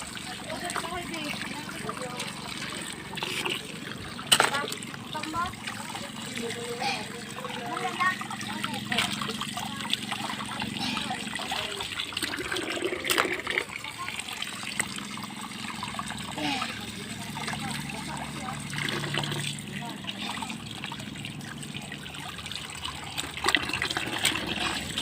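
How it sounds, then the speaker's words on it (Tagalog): Water sloshing and splashing as shellfish are washed on a sandy beach, soft trickles and occasional splashes with a few sharper hits, under people talking nearby. "kami po ay naghuhugas po sa mga kinason"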